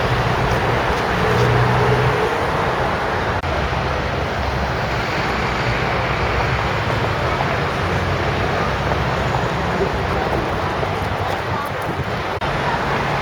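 Traffic on Euston Road, London, makes a loud, steady roadway roar of passing vehicles, close and continuous with no breaks, and a voice speaks over it.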